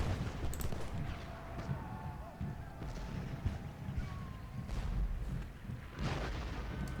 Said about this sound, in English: They're retreating, turn and fire. Von Gilsa, fire.